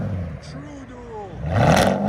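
Chevy Silverado with a 5.3L V8 and true dual straight-pipe exhaust: a brief voice first, then the engine revs and swells loud and close for about half a second near the end.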